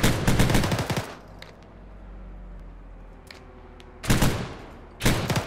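Heavy automatic gunfire in an Arma 3 military operation, loud sustained volleys for about a second, a quieter stretch of distant pops and rumble, then two more loud close bursts, no speech.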